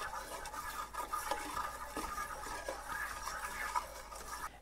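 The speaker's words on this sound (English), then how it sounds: "You want to keep cooking it and whisking it for at least a minute so you don't have any raw flour taste in your soup." A whisk scrapes and stirs flour into bacon grease in a soup pot, making a soft, quiet, continuous scratchy brushing with a steady back-and-forth rhythm close by.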